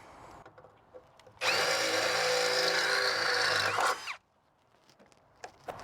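A power drill with a 5/16 bit bores through a GMC Sierra or Chevy Silverado truck bed, a loud, steady whine lasting under three seconds, with quiet handling noises before and after.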